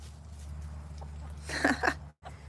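A broody hen named Gracie gives a short, agitated burst of clucking and squawking over a low steady hum, two quick raspy calls close by, then a brief cut to silence.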